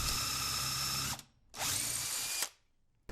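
Power drill boring pocket holes into wood for drawers, two sustained high-pitched whirring runs of about a second each, separated by short pauses, close and loud with no talk.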